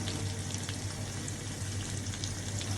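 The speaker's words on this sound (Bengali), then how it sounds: "আর পেঁয়াজটা আমি কড়াইতে ভাজা দিয়ে দিচ্ছি।" Onion fries in a karahi wok with a dense, steady sizzle and faint crackles, close and continuous, with no voices.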